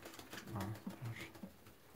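Pigeons coo nearby in a winter coop, several soft low throaty calls in a loose rhythm, quiet and close.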